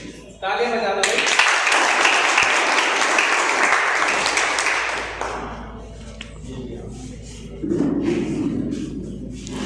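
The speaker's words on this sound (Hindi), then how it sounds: "तालियां बजा दो भाई।" An audience at a coaching event breaks into loud, sustained applause for about five seconds, then it thins to scattered clapping, with a second burst near the end.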